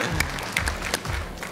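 Audience clapping at a televised talent show gala, a steady dense patter of many hands filling the short stretch, moderately loud and unbroken, with no voices standing out.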